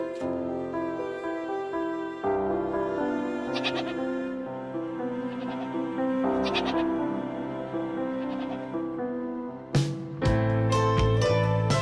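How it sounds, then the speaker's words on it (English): Goats bleat repeatedly in wavering, nasal calls over a steady droning background, with a louder, sharper burst of bleating near the end. "Goat."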